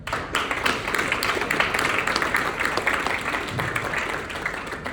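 An audience claps together at the close of a school district candidates forum, producing a dense, sustained round of applause that stays steady for several seconds.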